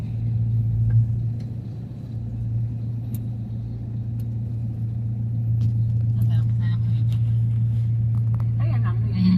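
Road traffic near the airport, from Baclaran to NAIA Terminal 2 in the Philippines: a steady engine rumble and low drone, as if heard from inside a vehicle, with people talking over it throughout.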